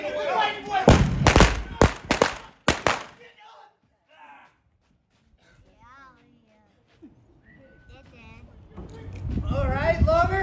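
Several sharp blank gunshots crack in quick succession during a Wyatt Earp gunfight reenactment show in Tombstone, Arizona, loud and close, followed by quieter moments, shouting and crowd noise.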